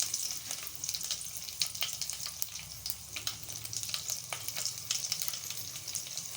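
Garlic, mustard seeds and cumin sizzle in hot oil as a tempering for sambar, a busy crackling hiss with frequent sharp pops, close and steady throughout, with no talk.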